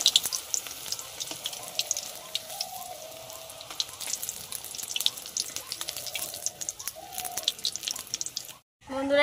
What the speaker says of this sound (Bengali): বন্ধুরা, একে একে আমি সব বেগুনিগুলো এইভাবে ভেজে নেব।